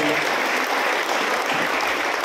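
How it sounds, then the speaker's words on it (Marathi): A large crowd at a ceremony claps loudly and continuously, a thick, even roar of many hands filling the space with no pause. "आमच्या भाभीसाहेब यांच्यासाठी आपण एकदा टाळ्या देऊ"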